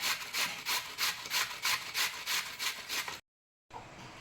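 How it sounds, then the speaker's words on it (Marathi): A homegrown cucumber, peeled and medium-sized, is grated on a hand grater for a traditional Konkan sweet, giving a close, rhythmic rasping of steady back-and-forth strokes that stops abruptly near the end. "आता ही काकडी मी किसणीवर किसून घेणार आहे"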